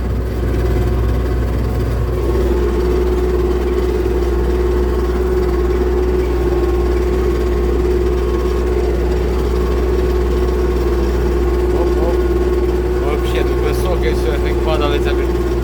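An MTZ 892 tractor engine working a plough fitted with skimmers through a field of sunflower stubble and volunteer growth, giving a loud, steady, unbroken drone that holds at the same pitch from start to finish.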